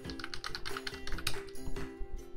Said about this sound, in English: i'm just typing example1.com